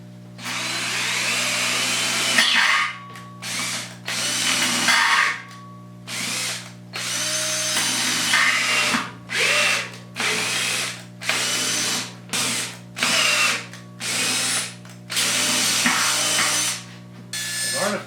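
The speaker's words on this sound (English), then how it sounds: "step drill this" A step drill with a bent pilot bit bores a hole through a steel lathe stand on a weld seam, the motor whining in loud repeated bursts of cutting separated by short pauses.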